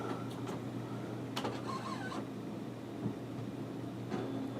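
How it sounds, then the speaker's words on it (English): An Epson Stylus Photo R2400 inkjet printer starts up, with whirring mechanical motor noise and a few clicks and clunks over a steady hum, close by and without talk. "Make sure our printer's turned on."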